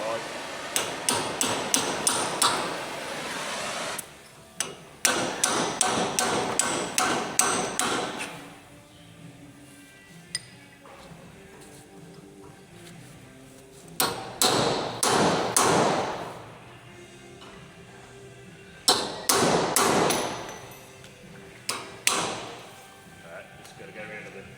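Steel hammer striking a chisel outdoors while working an irrigation setup, a run of sharp metallic taps in quick bursts separated by pauses, loud and close with faint voices in between.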